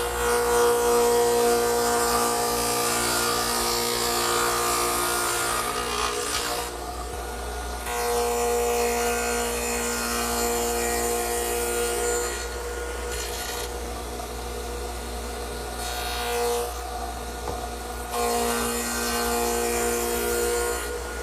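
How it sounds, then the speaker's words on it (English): Radial arm saw fitted with a stacked dado head cutter ploughs through wood in several long, loud, steady passes, a constant motor hum underneath with the cutting roar briefly easing between passes. "I've also put my stacked dado head cutter in the radial arm saw"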